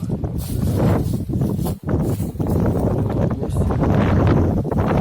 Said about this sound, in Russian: Ветер вообще, не знаю, как там будет слышно.